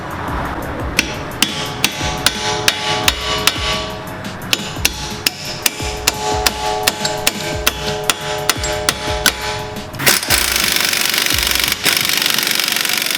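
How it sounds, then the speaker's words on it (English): Steady metallic hammer blows on the steering knuckle splines of a 2017 Camaro SS 1LE ring out one after another, about two per second, close and loud, then give way to a harsh hissing burst. "I'm going to take the hammer and I'm going to hit this side a little bit"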